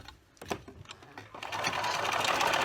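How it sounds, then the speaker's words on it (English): A sewing machine stitches a fabric-strip tote bag, starting with a few slow, separate needle thumps, then speeding into a loud, continuous rapid rattle close by. "sew along a little bit, because you don't want to have too big a hole to have to sew up afterwards"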